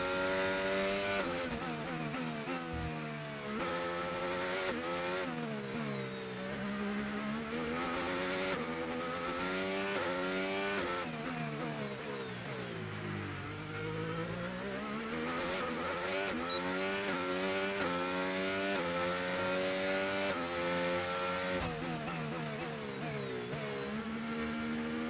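Formula 1 race car engine in the F1 25 video game, a high-pitched screaming whine that climbs and drops through repeated gear shifts and braking, loud and continuous without any talk.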